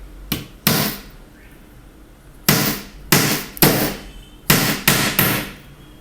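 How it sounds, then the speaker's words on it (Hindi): A hammer drives a nail through a wooden sheet into another sheet below, eight sharp loud close strikes in uneven clusters with brief quiet gaps between. "यहाँ पे अब हम ज़ोर ज़ोर से इसको मारेंगे"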